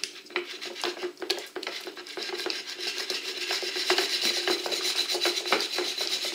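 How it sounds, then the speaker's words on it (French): Choux pastry dough being mixed in a bowl, a close, continuous scraping and rubbing with irregular soft knocks of the utensil against the bowl, no talking. "Et on vient mélanger l'ensemble."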